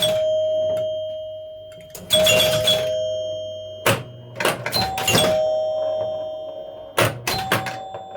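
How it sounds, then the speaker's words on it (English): Bell-like chimes of a 1975 Gottlieb El Dorado pinball machine ring out in repeated bursts with lingering tones, mixed with clacking mechanical knocks and thunks, loud and close. "I can't talk over these chimes."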